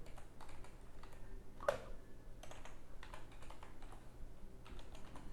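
Quiet, steady typing on a computer keyboard in the Windows command prompt, a run of soft keystrokes with one sharper click partway through, alone with no talk.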